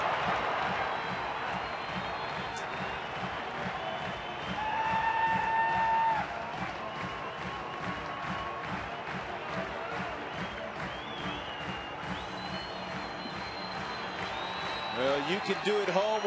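A stadium crowd at a Milwaukee at Colorado baseball game cheers and claps steadily for the whole stretch, swelling louder partway through, with broadcast commentary faintly underneath.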